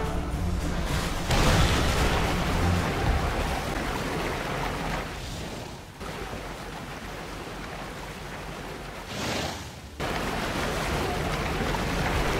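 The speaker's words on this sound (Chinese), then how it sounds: "是场暴风雨，没有人能抵挡大海。" Stormy sea in the World of Warcraft game: a sustained roar of crashing waves and wind, surging loud then dipping briefly twice, with no speech over it.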